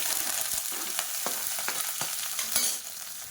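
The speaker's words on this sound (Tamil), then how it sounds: "வெங்காயம் நல்லா வதங்கிட்டு இருக்கு." Chopped onion with curry leaves and whole spices sautéing in a pan for pepper chicken, a steady close sizzle broken by a few sharp scrapes and clicks of a stirring spoon, with no talking.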